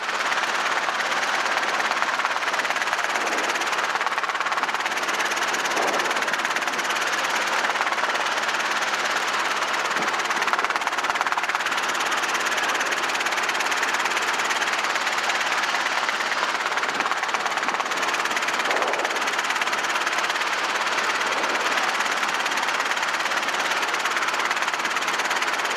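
A Robinson R22 helicopter engine runs steadily during a flight lesson, a loud, constant droning whine with a rapid mechanical beat that stays close and unchanging throughout, with no voices heard.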